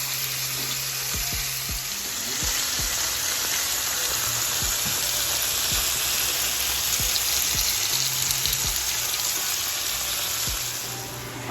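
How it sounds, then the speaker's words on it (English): Pork tenderloins sear in a hot skillet with a loud, steady sizzle that holds for the whole stretch, broken by occasional soft knocks and taps from below. "They've been searing for about 4 minutes."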